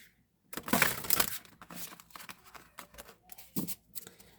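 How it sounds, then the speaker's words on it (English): An oracle card deck being shuffled close up, a burst of riffling followed by shorter flicks and slides, brief and crisp against quiet. "This deck shuffles wonderfully as well."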